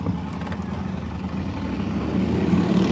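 A loud engine rumbles steadily on a busy main street, low and close, growing slightly louder toward the end, with faint crowd noise in the background.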